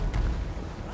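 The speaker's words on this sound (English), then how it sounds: "The Hell Cannon trying to get some hits in." A Hell Cannon fires during a Warhammer multiplayer battle, giving one short, deep boom that rolls into a broad rumbling tail with no voices over it.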